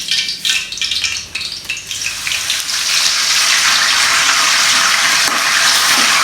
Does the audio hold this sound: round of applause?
no